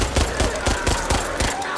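Rapid automatic gunfire rattles close and loud in the shooter video game Back 4 Blood, a dense burst of evenly spaced shots filling the whole moment with no pause.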